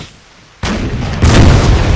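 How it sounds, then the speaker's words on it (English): Swedish 8-pounder cannons fire a volley in the Napoleon Total War 3 multiplayer battle game: two heavy, close booms about half a second apart, each followed by a rumbling roar. "Oh, it's good to hear a cannon volley."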